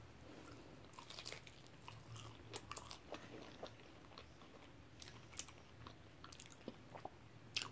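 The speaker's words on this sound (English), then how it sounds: "Let's get into this Mexican pizza." Biting and chewing on a Taco Bell Mexican pizza, with soft, close crunches and wet squishes repeating unevenly against a quiet background.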